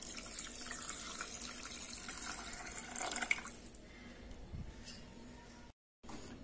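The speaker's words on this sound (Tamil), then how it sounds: "இப்போ தண்ணி ஊத்திக்கலாம்" Water poured into a cooking pan while making tomato rice upma, a steady splashing pour lasting several seconds that thins toward the end, followed by a brief silence.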